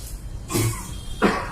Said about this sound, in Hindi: आज के बाद आप सब खांसेंगे या छींकेंगे तो ऐसे